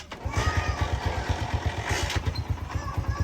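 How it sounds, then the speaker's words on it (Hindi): A motorcycle engine cranks and catches, then settles into a steady, close, loud thumping idle with a regular pulsing beat and some rattly clatter on top. "स्टार्ट करते हैं। मोटरसाइकिल"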